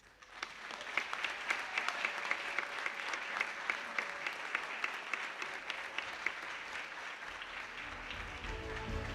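An auditorium audience gives a big round of applause to the 2004 state championship baseball team at a Hall of Honor induction ceremony, a steady, sustained clapping from many hands that fades slightly at the end.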